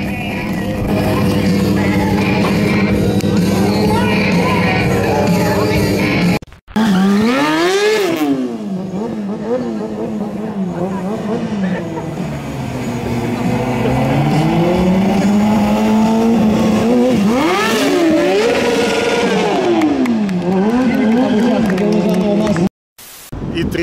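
A car drifting in a race, engine revving and swooping up and down in pitch with tire squeal, loud and continuous, with crowd babble and brief dropouts.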